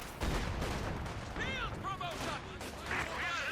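Company of Heroes 2 match battle sounds: a grenade blast and bursts of gunfire and explosions crack through a busy game mix, with a caster's voice talking over parts of it.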